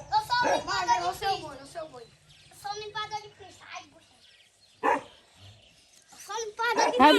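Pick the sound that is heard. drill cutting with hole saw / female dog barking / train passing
female dog barking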